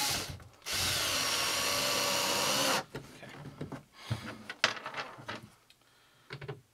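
A power drill whirs loudly and steadily for about two seconds drilling into a plastic kayak, then stops, followed by scattered clatter and handling noises.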